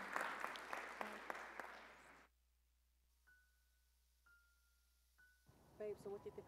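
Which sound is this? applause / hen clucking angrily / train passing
applause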